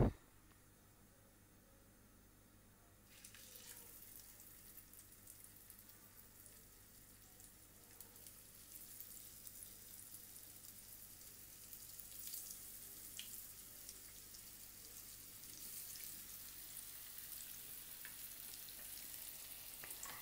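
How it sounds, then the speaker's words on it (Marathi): Colocasia leaf vadis stuffed with Bombay duck fish drop into hot oil in a frying pan and set off a soft, steady sizzle that grows gradually fuller and brighter and runs on alone. "आपण वड्या फ्राय करूया"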